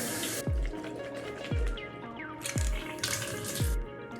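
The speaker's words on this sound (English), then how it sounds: "Next is a Nail Med Sinus Rinse" NeilMed sinus rinse flushing water, heard as hissing gushes of liquid close by, interspersed with four descending whoop-like sweeps in a steady roughly one-second rhythm, with no talking.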